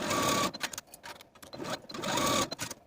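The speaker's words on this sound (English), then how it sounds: "Sew these short seams with a 1/2 inch seam allowance" A sewing machine stitches short ruffle seams on cotton pajama shorts, running in two loud, steady bursts with a brief pause between them.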